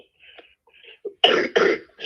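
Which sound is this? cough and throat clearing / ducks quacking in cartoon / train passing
cough and throat clearing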